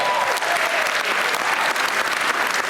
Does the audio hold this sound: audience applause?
yes